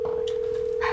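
A steady electronic phone tone hums quietly for about a second, with a brief soft click or two on top.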